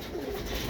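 Birmingham roller pigeon stock cocks cooing in a loft, a short low continuous coo over steady background noise, nearby.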